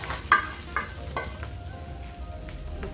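Hot tadka tempering poured over cooked chana dal for crispy chana dal, giving a faint, steady sizzle with a few soft clinks near the start.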